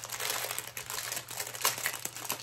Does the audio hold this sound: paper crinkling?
yes